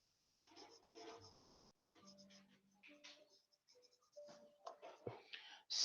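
A pencil scratches and strokes across paper in short, uneven bursts while shading a value scale, faint and close, with soft murmuring voices in the background.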